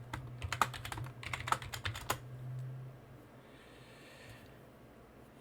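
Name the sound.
typing a password on a computer keyboard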